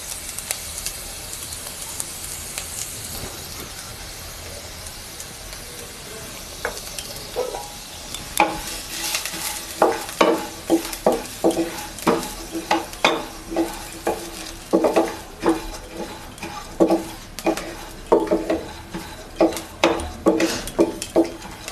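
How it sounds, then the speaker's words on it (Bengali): Masoor lentils fry lightly in a pan, starting as a quiet sizzle and then turning into repeated rhythmic scraping and clinking of a spoon against the pan over continuous frying hiss. "ডালগুলো হালকা ভেজে কুকারে দিয়ে দেব সিদ্ধর জন্য।"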